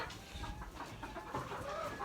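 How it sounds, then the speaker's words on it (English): Hens clucking softly in a farm chicken coop where eggs are laid, a quiet, steady murmur of low clucks close by with no one speaking. "I like chickens."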